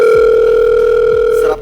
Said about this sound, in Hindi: सर आपका फोन आ रहा है।